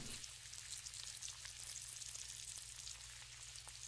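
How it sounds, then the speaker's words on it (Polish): Food frying in a house in the Roblox horror game It Lurks: a steady faint sizzle with scattered crackles over a low hum, no voices. "Ktoś coś smaży?"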